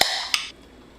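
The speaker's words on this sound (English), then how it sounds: "Let's crack the can." A can of Moment still spiced mango drink cracks open with a sharp metallic pop, then a second short hiss-click follows, close and loud, with nothing else around.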